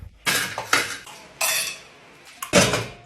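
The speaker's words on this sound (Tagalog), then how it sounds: "maghugas ka muna ng plato" Plates and cutlery clatter in a kitchen sink during washing-up, with a few sharp bursts of clinking porcelain and metal separated by brief pauses, close and fairly loud, no talk.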